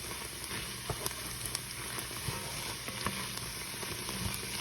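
Garlic and two bay leaves sautéing in oil in a pot for birria-style oxtail soup make a faint, steady crackling sizzle with scattered small pops. The frying goes on unbroken for several seconds with no voices.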